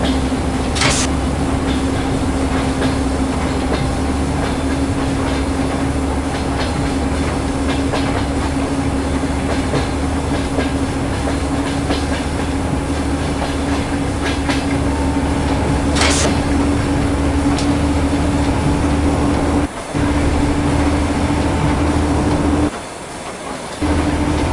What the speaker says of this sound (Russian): Весь состав вышел на главный путь.